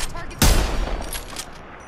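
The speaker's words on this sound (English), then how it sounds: "Getting shot at" A sharp, loud gunshot in Apex Legends cracks out close, followed by a short rattling volley that fades within a second or so.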